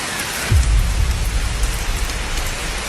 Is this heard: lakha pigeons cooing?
no